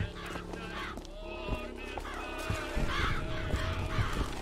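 Crows caw repeatedly in Bioshock Infinite, harsh calls recurring in irregular bursts over a busy game soundscape with thuds and music beneath.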